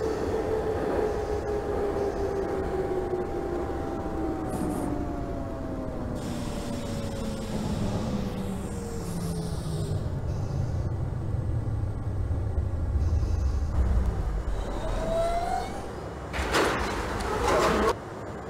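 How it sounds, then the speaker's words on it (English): An R42 subway train on the L line in the OpenBVE train simulator game runs steadily with a rising then falling motor whine, and its doors slide and thump near the end. "This is a Manhattan-bound L train."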